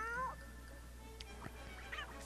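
Grimalkin cat enemies in the video game Ni No Kuni give a quick, faint meow at the start, then a few more soft mewing cries over a low background hum.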